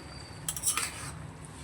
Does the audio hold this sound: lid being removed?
yes